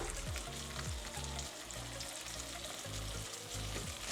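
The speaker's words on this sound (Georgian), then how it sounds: "2-3 წუთი მეყოფა ზუსტად ყველის შესაწვავად" Cheese frying in a pan gives a steady, loud, close sizzle with stirring, continuous and without talk.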